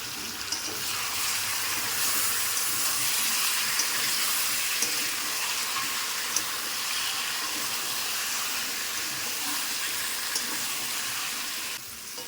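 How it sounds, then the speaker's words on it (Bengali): Marinated chicken fries in a pan of hot oil with fried potatoes, making a steady, close sizzle and crackle that continues evenly, with occasional small pops and stirring. "এবার আমি চিকেনগুলো দিয়ে দেবো, ম্যারিনেশন করে রেখেছিলাম যে।"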